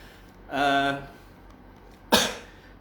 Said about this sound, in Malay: Batuk-batuk saya.